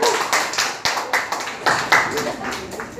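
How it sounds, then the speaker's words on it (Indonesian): A small crowd claps in a steady patter of individual claps, moderately loud and close, continuing for a few seconds. "Tepuk tangan."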